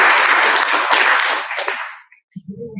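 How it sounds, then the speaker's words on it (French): A burst of applause from an audience fades away after about two seconds, then a voice starts speaking. "On va applaudir, merci."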